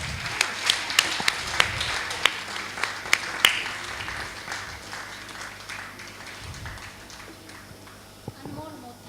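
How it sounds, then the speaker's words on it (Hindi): Sparse, sharp hand claps ring out at a steady beat for a few seconds, then fade into a quiet hall murmur. "जोरदार तालियों।"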